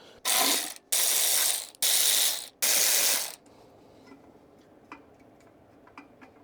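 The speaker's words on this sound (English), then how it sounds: "We just gotta pull those bolts back off." Ratchet backing bolts off a Honda K24 engine, four loud, close bursts of rapid clicking, each about half a second long, then quiet with faint scattered ticks.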